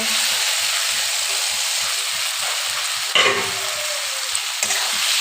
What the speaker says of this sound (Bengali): এবার আমি এখানে আলুটা ভাজা আলুটা দিয়ে দেব